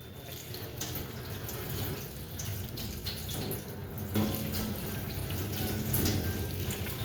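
Tap water runs steadily into a sink during washing, a continuous close splashing hiss with a few sharper splashes and clinks, and no voices over it.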